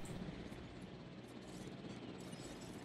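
A steady, dense rotor and engine drone from a helicopter in the video game Jurassic World Evolution fills the whole stretch evenly, with no talk over it.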